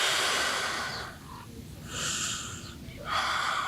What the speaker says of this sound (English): Breathing deeply in and out.